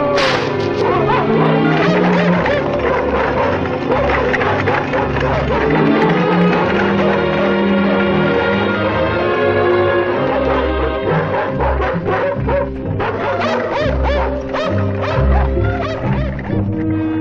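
Several dogs bark and yip repeatedly amid a dense, busy outdoor scene, the barks frequent and fairly loud, mixed in with crowd noise, laughter and people talking.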